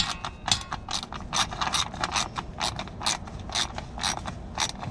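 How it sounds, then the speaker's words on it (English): A ratchet with a 10mm deep socket loosens a bolt on a 2006 Acura TL, giving a close, quick series of sharp metallic clicks in a steady rhythm of short strokes. "All the stuff is this 10mm, so get the deep socket off on here and just loosen that one off."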